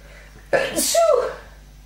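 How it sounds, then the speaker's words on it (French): A single sharp allergy sneeze bursts out close by, a quick intake followed by a loud explosive release, then quiet. "Oh, j'ai vraiment des crises d'éternuement là,"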